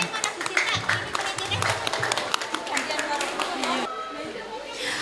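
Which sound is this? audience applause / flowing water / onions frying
audience applause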